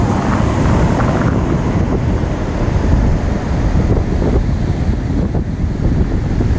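Ocean waves wash onto a beach in a continuous loud roar of surf mixed with heavy wind buffeting on the microphone, steady throughout with no talk.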